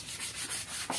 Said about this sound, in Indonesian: kita amplas dulu ya